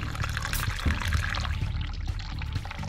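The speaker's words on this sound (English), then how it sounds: "You want to turn the sink on. It doesn't matter if you run hot or cold water." Water runs steadily from a sink tap in the video game The Cat Lady, a continuous close pouring and splashing stream that goes on without talk.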